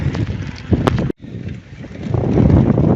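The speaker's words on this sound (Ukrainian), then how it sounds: "Вітерець віє потрошку 15 км, 20 км на годину" Wind rushes and buffets steadily past a vehicle moving along a road after rain, loud and close, with a brief drop near the start before the roar builds again; no talking.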